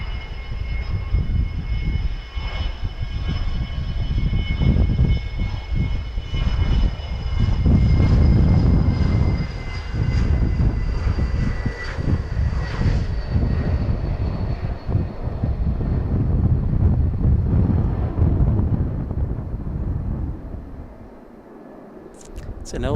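Jet airliner noise, most likely a Boeing 737, roars steadily and loud near Dallas Love Field, with a broad engine rumble and high whine that swell and ease over the whole span; faint voices may sit beneath.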